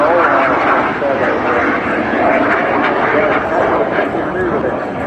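A jet aircraft flies a display at the Bournemouth airshow, a loud continuous engine roar that holds steady throughout, with crowd and commentary voices mixed faintly beneath.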